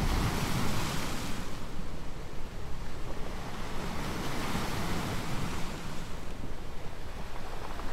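Waves washing steadily onto the Lake Michigan shore on a fossil-hunting day, a continuous loud surf roar with wind buffeting the microphone throughout, no voices.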